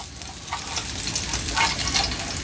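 Food sizzles and crackles in a hot pan, a dense hissing spatter with scattered pops throughout, fairly close.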